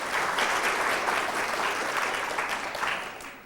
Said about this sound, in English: let's give the people here a round of applause for helping out